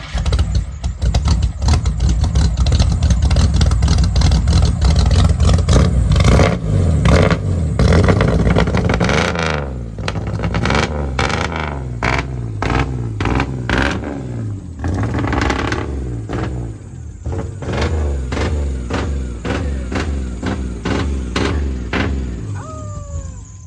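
A 1992 Chevy S10 extended cab pickup's V6 engine runs loudly throughout, with repeated revs rising and falling in quick bursts, close to the microphone, and a brief quieter stretch midway.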